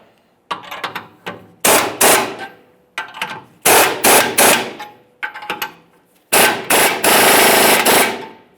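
Bursts of an impact wrench tightening U-bolts on a 2015-2020 Ford F-150 leveling kit, loud and close, coming in repeated short rattling pulses with brief pauses between them and a longer burst at the end.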